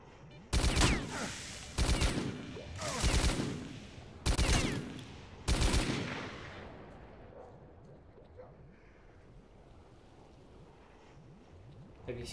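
Antelope rifle gunfire in S.T.A.L.K.E.R.: Call of Pripyat, five loud, evenly spaced shots, each a sharp blast with a rumbling tail, fading into quiet ambience.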